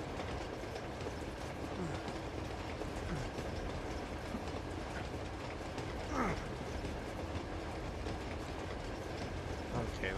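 A moving train in the video game Uncharted 2 rumbles steadily with low rolling noise and faint rhythmic clatter, a few brief metallic squeaks rising over the continuous drone.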